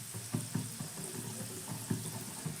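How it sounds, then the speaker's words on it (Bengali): Snacks laid one by one into plenty of hot oil in a frying pan over a medium-low gas flame give a soft, close sizzle with a few light taps and bumps, fairly quiet throughout. "এবার একে একে টিফিনগুলো তেলের মধ্যে আমি সাজিয়ে দিচ্ছি।"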